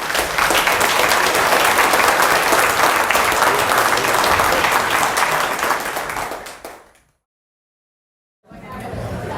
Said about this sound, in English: I feel they deserve a round of applause